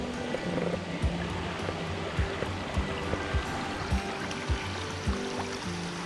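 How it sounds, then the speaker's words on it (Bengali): Waterfall beside Kalyaneswari Temple, a steady broadband rush of falling water, close and constant, with a few soft low thumps scattered through it and no voices. "ঝর্ণার কাছে যাওয়ার চেষ্টা করা যাক"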